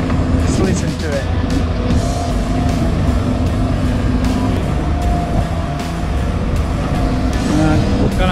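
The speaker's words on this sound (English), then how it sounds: "I love this tractor." Caterpillar D4 crawler tractor engine running steadily and loud while stripping topsoil for a playing field, a continuous heavy diesel drone with track clatter and no pauses.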